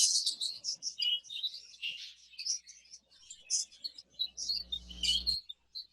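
Budgies kept by an exhibition breeder chirp and twitter in rapid, high-pitched bursts from several birds at once, with a low hum briefly rising near the end.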